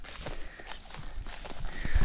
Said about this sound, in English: there's the Percherons over in the distance